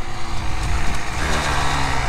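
A Kawasaki KX85 dirt bike engine accelerating on a short straight, a close, loud and steady mechanical drone that climbs slightly in pitch.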